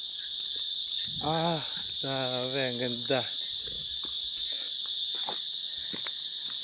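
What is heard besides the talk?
crickets chirping at a foggy campsite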